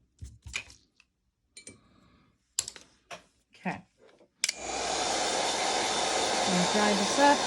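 A heat tool dries a creative journaling page with a steady, loud blowing roar that starts abruptly halfway through and runs to the end, after a series of scattered clicks and light handling taps.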